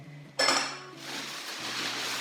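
A small toy dish and its lid knock together, one sharp bright ceramic clink followed by a softer scraping rattle, close up with no voices.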